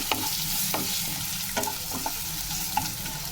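Onion masala fries in a pan with a continuous loud sizzle, broken by several scraping stirs of a spoon at irregular moments, close up.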